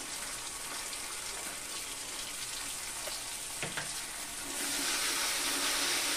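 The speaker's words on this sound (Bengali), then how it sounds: "মশলা প্লেট ধোয়া জলটা দিয়ে দেবো।" Water rinsed from a spice plate splashes into a hot pan of soybean curry masala with chili and cumin, raising a steady sizzle that swells louder toward the end.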